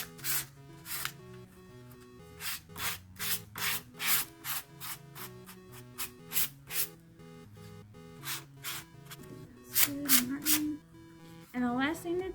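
Coarse sandpaper rubbed by hand over a wooden pumpkin sign in short repeated strokes, each a brief scratchy swish with pauses between, fairly quiet and close; a person talks intermittently over the sanding.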